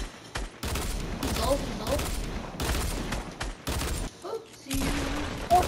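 Fortnite gunfire bursts in loud, rapid volleys separated by brief silences, close up, with a player talking briefly between shots.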